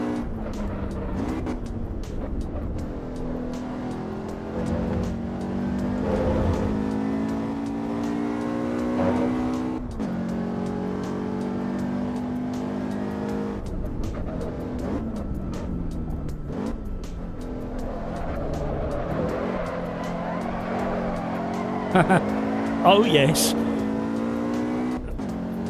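Race car drifting around the Melbourne hairpin in the sim racing game Assetto Corsa EVO, engine droning and rising with revs, a tire squeal near the end, and someone talking over it.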